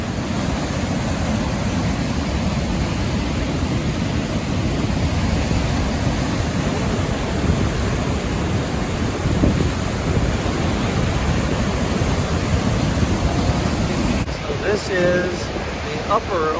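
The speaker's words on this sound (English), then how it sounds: "This is the Lower Falls overlook. You can see the water rushing down." Steady, broad rushing of the Lower Falls in Yellowstone National Park roars without a break, with wind buffeting the microphone and a brief change in the sound near the end.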